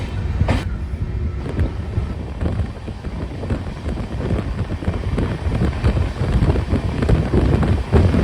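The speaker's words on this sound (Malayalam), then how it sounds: "train number 12512 Raptisagar super fast എക്സ്പ്രസിലുള്ള നമ്മുടെ ട്രെയിൻ ജേർണി ദേ ഇവിടെ ആരംഭിച്ചിട്ടുണ്ട്" The 12512 Raptisagar Superfast Express rolls along from Kochuveli toward Coimbatore, a loud, close rumble from inside the moving train with rhythmic wheel clatter and gusting wind noise on the microphone throughout.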